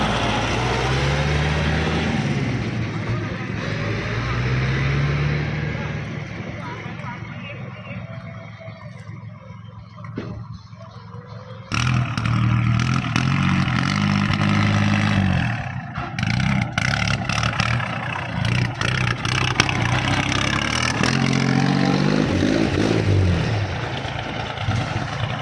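Kubota 34-horsepower tractor with a loud aftermarket exhaust pipe, running close by: a throaty engine rising and falling through several revs, broken by a sharp cut partway through and then a louder, rougher stretch.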